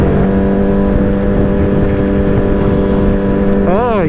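A motorcycle rides out on a cold Saturday, its engine droning loud and steady close to the mic before a rising rev near the end, with faint voice-like sound in the wind.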